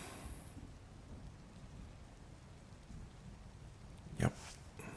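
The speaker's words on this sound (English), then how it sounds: "The storm is getting worse." Steady rain patters on surfaces through a quiet thunderstorm, with a sharp crack of thunder near the end and a faint rumble trailing after it.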